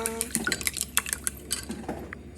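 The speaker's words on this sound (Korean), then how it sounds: "계란을 잘 섞어줍니다." Eggs being beaten in a bowl for egg soup, a quick run of light, clattering utensil taps against the bowl, close and brisk, with no talking.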